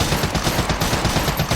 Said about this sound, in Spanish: Los frateris lo abatieron con múltiples disparos.